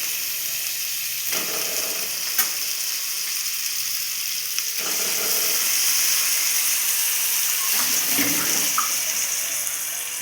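Chicken pieces dropped into hot spiced oil in a pan for a red meat curry, sizzling loudly and steadily with bursts of crackle when pieces go in, close and continuous with no talk.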